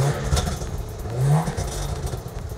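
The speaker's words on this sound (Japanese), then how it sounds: "これを押してアクセル向くと音が変わる。" A Subaru GDB rally car revs with anti-lag switched on, giving a rough, clattering engine note with a rising rev swell in the middle, loud and close.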